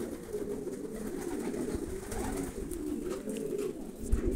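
Pigeons coo softly and steadily near a home loft in Brazil, a low continuous murmur of bird calls with outdoor background noise and no talking.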